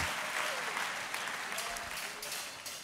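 A church congregation applauds the Lord, steady dense clapping from many hands that stays loud and even throughout, with a faint voice underneath.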